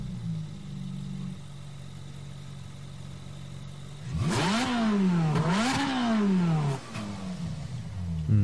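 A Ferrari engine in Gran Turismo Sport idles steadily, then revs hard through several rising and falling sweeps before settling back to a low idle, loud and close.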